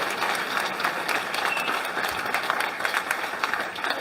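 A crowd at a New Blue Ontario campaign launch rally in Cambridge, Ontario, applauds the six candidates with steady, dense clapping that holds at a constant level for the whole stretch, with no voices standing out.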